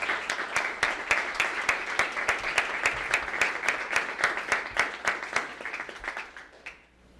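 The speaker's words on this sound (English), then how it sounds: "Let's give them a great round of applause for their service." An audience at a board of education meeting gives a round of applause, a dense steady stretch of many clapping hands that fades out at the end.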